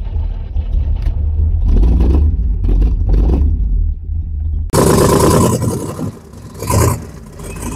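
A carbureted Chevrolet Corvette C3 V8 with side pipes cranks through several starter bursts, then catches and fires into a loud, throaty idle with a rev swell near the end, all close by.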